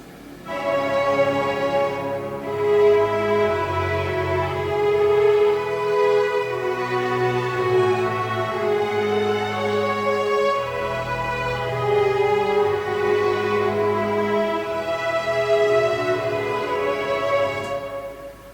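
Orchestral strings playing variations on a main theme, sustained layered chords swelling and shifting in a continuous, full-bodied passage with no talk.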